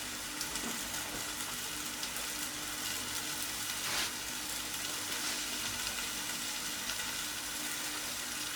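Steady, continuous sizzle of oiled, herb-seasoned onglet (hanger steak) searing on a plancha heated to about 200 degrees, a fine crackling hiss holding even and close throughout with no talking.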